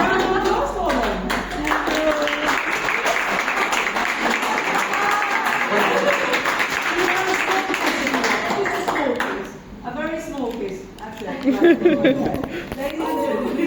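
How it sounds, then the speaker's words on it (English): Wedding guests applaud a newly married couple at a ceremony in London, a sustained round of clapping that fades briefly before a louder burst near the end, with chatter and voices mixed in. "Round of applause for them."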